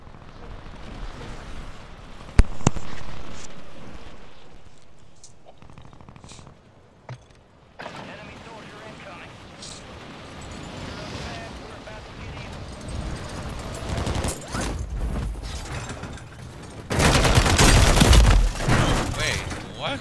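Submachine gun fire in the Warzone 3 video game comes as scattered shots and bursts, with a sharp crack early and a dense, loud stretch of rapid fire near the end, over a steady background and a voice talking.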